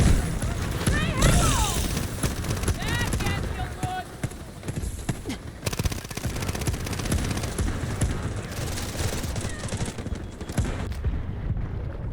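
MP7 submachine gun fitted with a 60-round magazine, firing in a video game as dense rapid bursts and continuous gunfire, with a player talking over the noise.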